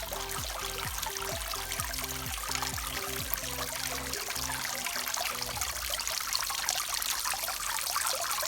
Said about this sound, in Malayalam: mini ഗാർഡനുള്ളിൽ fish ടാങ്കും വെള്ളച്ചാട്ടവും